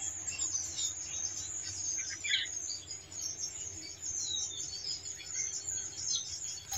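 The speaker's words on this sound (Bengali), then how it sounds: "চারিদিক দিয়ে কি ঝিঝি পাখির মতো ডাকতেছে" Crickets chirp all around outdoors in a steady, shrill insect chorus with a few bird calls mixed in, moderately loud and continuous with no talk.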